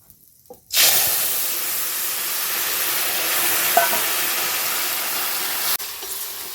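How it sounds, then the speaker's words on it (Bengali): Fried papaya pieces hit hot tempering oil with bay leaf and black cumin, setting off a sudden loud sizzle that hisses steadily for several seconds close by. "এবার আমি এই যে ঢেলে রেখেছি এটা আমি ফোড়নে দিয়ে দেবো"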